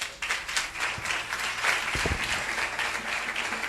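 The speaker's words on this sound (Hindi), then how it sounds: "एक बार मेरी पत्नी के लिए ताली बजा दो।" A church congregation claps during a Christian marriage sermon, a moderate wash of many hands applauding steadily for a few seconds, heard alone without talk.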